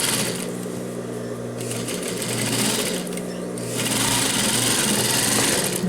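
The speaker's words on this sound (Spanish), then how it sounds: "voy a pasar una costurita que me ayude a mantenerlas ahí" Sewing machine stitching a 1 mm seam on men's trousers, a steady close whir that runs nearly the whole time, briefly easing off twice between bursts of stitching.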